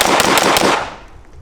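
Rapid burst of gunshots from a Type 56 Norinco SKS rifle on a shooting range, several sharp loud reports in quick succession followed by a decaying echo.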